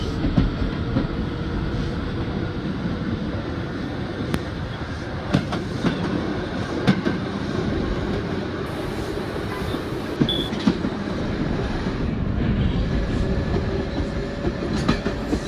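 A simulated NYC Subway R160A Alstom train on the Q line toward Coney Island runs steadily in the OpenBVE game, with a constant low rumble and periodic clickety-clack from the wheels.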